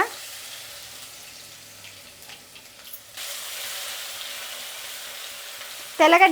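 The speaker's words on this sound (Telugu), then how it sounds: "ఆయిల్ వేడెక్కిందండి, ఆవాలు వేసుకుందాము" Mustard seeds, cumin and garlic tempering in hot oil, a quiet stretch giving way to a steady frying hiss and then a sudden loud burst of crackling and popping at the end.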